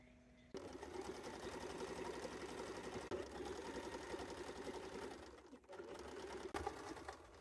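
A sewing machine stitches dress pockets inside a van, a steady rapid mechanical chatter that starts abruptly after a short pause, runs continuously with a brief dip near the end, with no talking.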